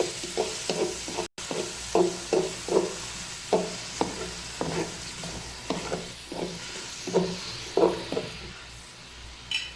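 Chopped onions fry in a pan for a chana pulao with a soft, steady sizzle, while a spoon scrapes through them in a dozen or so rhythmic stirring strokes, close and clear.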